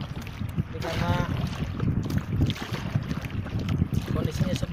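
A strong south wind roars steadily over a small wooden fishing boat at sea, a constant loud rushing buffet against the microphone with faint splashing beneath.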